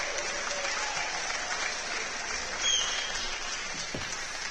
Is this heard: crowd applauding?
yes